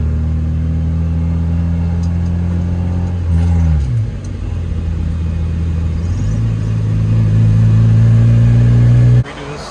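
A Mazda Miata's engine runs loud and close as the clutch is let out slowly, with a steady hum that dips, climbs again and cuts off near the end, while people talk over it.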